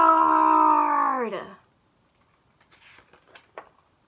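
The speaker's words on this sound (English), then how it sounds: "Dragon roared!" A long, loud, tonal dragon roar sound effect that bends downward and fades after about a second and a half, followed by faint scattered rustles.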